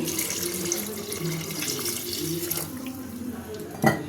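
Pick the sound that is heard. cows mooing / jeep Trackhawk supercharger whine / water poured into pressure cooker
water poured into pressure cooker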